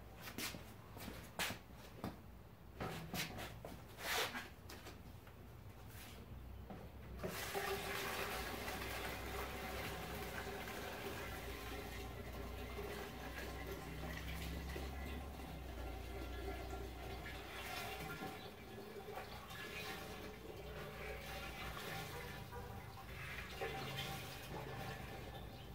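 Liquid is poured into a pot while making Fuji apple moonshine, with scattered handling knocks at first, then a steady, continuous pouring rush that runs close and loud for the rest of the stretch.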